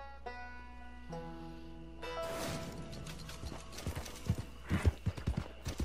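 Hooves of a horse-drawn trader wagon in Red Dead Redemption 2 Online clop in an uneven rhythm that grows louder toward the end, over a faint mechanical creak and a tonal hum early on.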